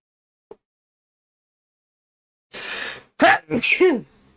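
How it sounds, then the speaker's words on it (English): A single sneeze, a sharp breathy burst after a long silence, followed by a couple of short throaty, groaning exhalations close to the microphone. "Hold on, I'm about to sneeze."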